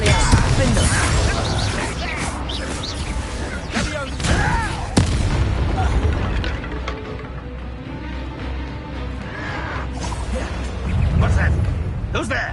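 An Expelliarmus spell cast during combat in Hogwarts Legacy, with magic blasts, booming impacts and crashes in a dense, loud battle mix, with voices shouting over it.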